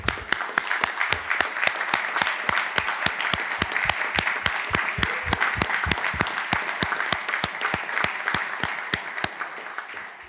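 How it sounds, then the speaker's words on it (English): Steady audience applause at a board of commissioners meeting fills the whole stretch, with distinct individual claps sounding in a dense, continuous rhythm. "Let's give them a round of applause."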